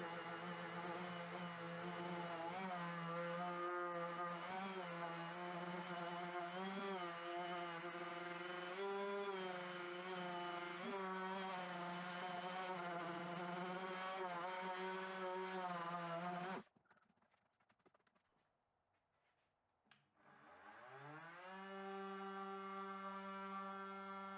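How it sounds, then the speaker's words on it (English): A Milwaukee oscillating multi-tool hums and buzzes steadily while sanding leather off a wooden table top, stops briefly, then winds back up to a sustained drone. "This Milwaukee multi-tool is absolutely the perfect tool for this job, for sanding up close to this edge"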